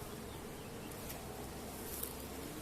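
Honeybees at a hive after a new queen is released into it, a dense continuous buzzing swarm close by, steady and unbroken throughout.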